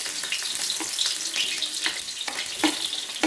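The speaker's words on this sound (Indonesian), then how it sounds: "Ini minyak goreng sudah cukup panas ini pemirsa. Kita masukkan dulu bawang yang sudah kita iris tipis ya." Thinly sliced shallots fry in hot cooking oil, giving a steady close-up sizzle with crackling bursts and occasional stirring, and no talking over it.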